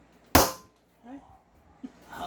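An airsoft M203 grenade launcher fired without a shell gives one sharp, loud pop up close, with short bits of speech trailing after it.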